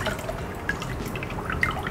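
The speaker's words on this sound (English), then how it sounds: "And now you want to drain these really well." Soaked rice noodles being drained for a Vietnamese dish, giving soft water drips and a light trickle with a few brighter splashes, close and fairly quiet, with no talk.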